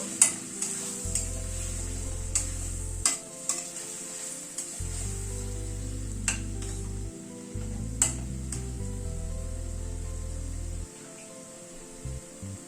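A spatula stirs turmeric and salt through a coconut, mustard and poppy seed spice paste in a pan for an egg and pointed gourd curry, giving repeated close scraping strokes over a soft steady sizzle with no voices.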